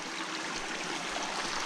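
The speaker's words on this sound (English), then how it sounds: "another gorgeous little waterfall" A small garden waterfall splashes and trickles in a steady, close, even rush of falling water with no other sounds.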